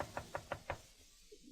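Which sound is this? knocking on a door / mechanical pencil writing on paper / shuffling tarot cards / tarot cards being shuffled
knocking on a door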